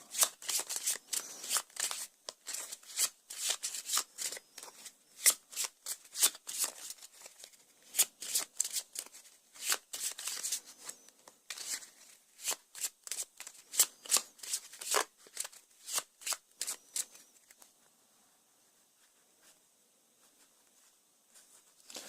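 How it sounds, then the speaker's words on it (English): Rapid riffle shuffling of an Arkham Horror card game deck, bursts of crisp fluttering clicks repeated over and over, close up, then a quieter tapping pause at the end. "I think it needs a bit more of a shuffle."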